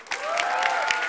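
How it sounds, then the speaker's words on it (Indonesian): A stand-up comedy television show audience breaks into applause, a full burst of many hands clapping with some crowd noise and a faint tonal sound underneath. "Untuk yang mendukung tim Arab, silakan tepuk tangan."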